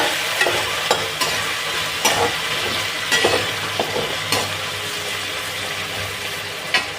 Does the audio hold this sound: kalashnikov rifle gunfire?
no